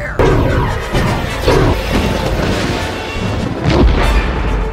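Starship weapons fire and explosions in a Star Wars space battle: loud repeated booming blasts and crashing impacts, several heavy hits in quick succession over a dense rumbling roar.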